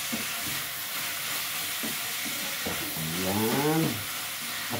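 Ground beef frying in oil with a steady broadband sizzle throughout, a brief tonal hum or voice-like sound rising near the end.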